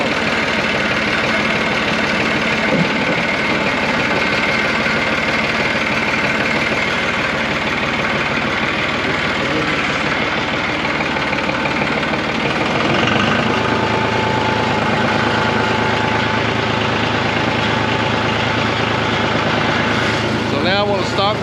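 A tractor engine drones steadily while the machine drives forward in third gear, with a constant, close mechanical rumble and a voice speaking over it.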